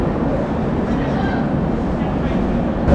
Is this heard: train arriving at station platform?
yes